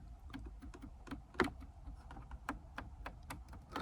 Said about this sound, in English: So I don't know if you hear those clicks, but there's definitely like a positive engagement when you turn these dials, right?